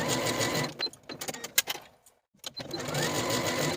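A sewing machine runs close up, sewing the short edges of a cuff with a 5/8 inch seam allowance, in a burst, stopping and starting briefly, then running steadily again.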